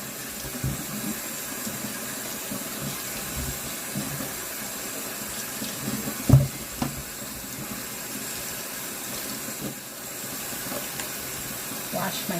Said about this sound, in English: So I'm going to wash all of my little vegetables.